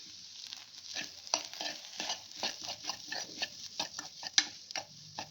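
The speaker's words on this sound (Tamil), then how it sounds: "மிளகாத்தூள் இப்போ வந்து கரம் மசாலா ரெண்டையும் போட்டுட்டு நல்லா வந்து கிளறி விடுவோம்" Chili powder and garam masala stirred in a frying pan, with a steady run of scraping spatula strokes over a soft sizzle, close and moderately quiet.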